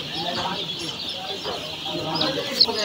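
Baby chicks chirp steadily in a high, busy chorus while they are released from paper into rice-husk litter, with soft rustling and handling noises beneath.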